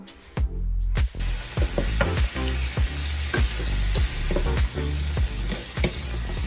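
Shrimp frying in a hot pan give a loud, continuous sizzle, broken by repeated clacks and scrapes as a utensil stirs them.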